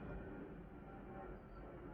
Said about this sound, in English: Apologies for that little aeroplane going by.